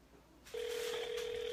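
A ring tone sounds over a phone line during a call, starting abruptly after a brief quiet and holding as one steady, even electronic tone.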